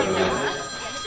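A telephone ringing in an office, giving a short, steady electronic ring that is heard alone and cut off after about a second.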